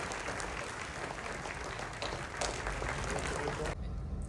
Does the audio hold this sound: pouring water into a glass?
no